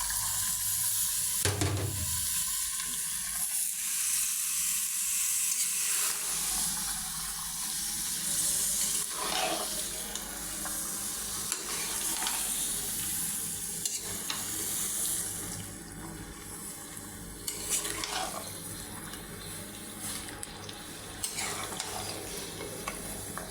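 Washed meat tipped into spiced oil in a pan for a Bengali mulo-and-meat curry, frying with a steady loud sizzle and the scrape of stirring throughout, close up with no talk.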